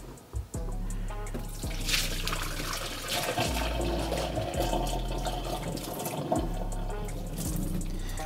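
Spaghetti cooking water is poured out into a sink, a loud continuous splashing gush with a few knocks and clatters of the pot against the sink.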